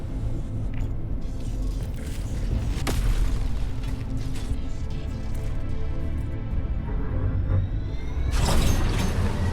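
Support weapon pod slamming down in Helldivers 2, a loud booming impact with mechanical rumble under continuous battle noise, followed by a bright crashing burst near the end.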